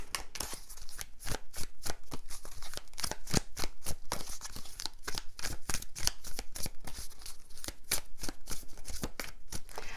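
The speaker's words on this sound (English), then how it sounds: "3 tarot cards, please. Three tarot cards." Tarot cards shuffled by hand: a rapid, steady run of crisp close riffles and slaps repeating for about ten seconds, with no talking.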